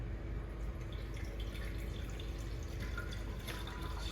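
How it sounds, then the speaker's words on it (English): Water poured slowly and carefully into a bowl while making apple dumplings, a steady close trickle and splash with light dripping, running evenly throughout with no talking. "now we're going to very carefully and slowly pour the water"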